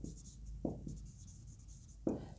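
Chalk or marker writing on a board during a Class 10 physics lecture: a few short, close scratchy strokes with quiet pauses between, and no talk.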